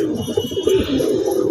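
Low, rolling coos come from a wild pigeon perched on a rooftop, near and clear, repeating in a short continuous stretch without any speech.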